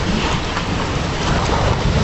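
Torrential rain and gusting storm wind pound Paris in September 2022 after a heat wave, a loud, dense, unbroken roar of downpour and wind buffeting the microphone.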